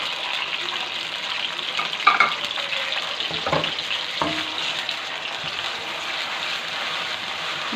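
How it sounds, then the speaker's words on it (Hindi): Onion paste, made from two medium onions, fries in a karahi for mutton karahi with a steady, close sizzle and crackle, broken by a few scraping stirs and clinks partway through. "अब इसको डालेंगे और अच्छे से फ्राई कर लेंगे।"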